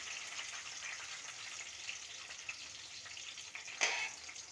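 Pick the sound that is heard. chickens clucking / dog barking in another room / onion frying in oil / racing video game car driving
onion frying in oil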